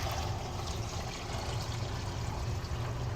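Water runs down the kitchen sink drain of a Brinkley G3500 RV toward the gray water tank, a soft continuous trickling rush with a low hollow rumble, steady and fairly quiet throughout.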